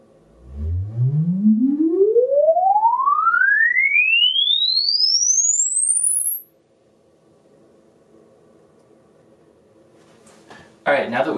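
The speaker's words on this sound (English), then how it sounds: "now let's capture our 10-second sine wave sweep" A pure sine wave sweep played through a loudspeaker to capture an impulse response glides smoothly from a deep low tone to a very high whistle over several seconds, loud and steady, then stops into quiet before brief noise at the end.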